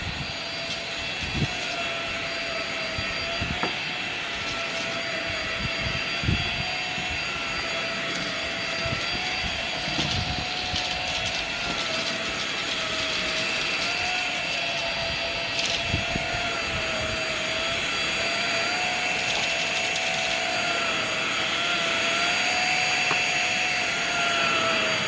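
Roomba robot vacuum cleaning underneath a bed, giving a steady whirring motor hum with a high whine and scattered soft bumps and clicks as it moves, continuous and fairly close, with no voices.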